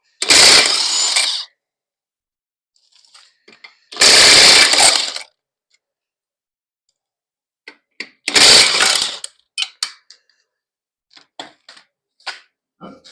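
A power impact tool removing lug nuts from an old steel wheel, three loud close bursts of hammering rattle separated by quieter gaps with scattered clanks and clicks.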